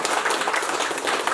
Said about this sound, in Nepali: मनोज सापकोटाजीलाई एकपटक ताली बजाएर स्वागत गर्न चाहन्छु